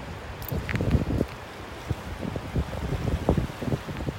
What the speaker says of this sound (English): Definitely breezy once you get out from behind the cover of the trees.